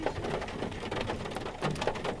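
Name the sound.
rain falling while cooking outdoors in Yosemite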